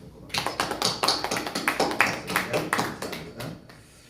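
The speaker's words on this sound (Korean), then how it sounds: "박수로 환영해 주시면 고맙습니다" A church congregation claps together to welcome a new teacher joining the youth ministry, a dense run of overlapping hand claps lasting several seconds at steady volume before tapering off.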